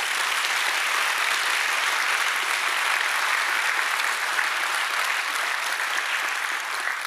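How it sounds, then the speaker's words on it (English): Sustained applause from an audience in a room at an indoor event: a dense, steady patter of clapping that stays fairly loud for the whole stretch, with no talk over it. "Let's give ourselves a round of applause again."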